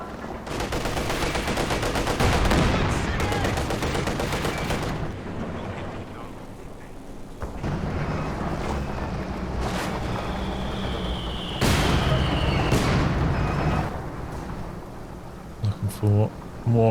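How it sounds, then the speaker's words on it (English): Company of Heroes 2 in a 3v3 match: dense bursts of gunfire and rumbling artillery explosions crash in sustained waves, loud and close, while someone commentates over the battle. "For the low angle barrage here."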